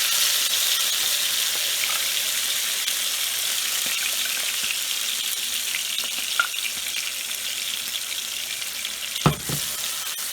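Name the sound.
ground tomato-onion paste frying in hot oil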